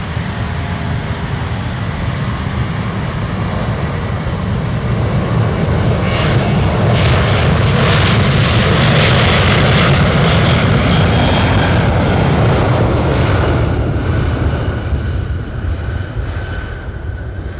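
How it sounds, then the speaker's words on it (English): An Alaska Air Cargo plane lands on runway 15 at Anchorage airport, its engine roar swelling to a loud, close peak as it passes, then tapering off steadily. "Clear land, runway 15. Even this one's gonna get really loud."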